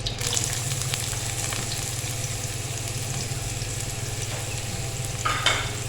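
Onions sizzling and frying in a hot pan, a steady close crackle with occasional stirring scrapes, no voices.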